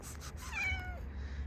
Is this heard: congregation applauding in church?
no